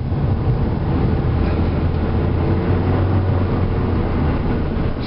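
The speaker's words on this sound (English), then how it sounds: "Here we go, accelerating again." 2003 Ford Focus accelerating on the road, engine drone rising steadily under heavy road and wind noise, close and continuous with no talking.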